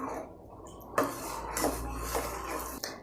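A spoon stirs a boiling homemade healthy drink in a pot, giving a few sharp metallic clinks against the pot roughly every half second over a low bubbling background. Nobody talks.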